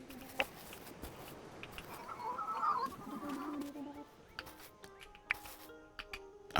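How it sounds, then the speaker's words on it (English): Roosters and hens in the farming game Dinkum cluck faintly and intermittently against a soft ambient background, with a few brief clicks and taps. "The roosters, man."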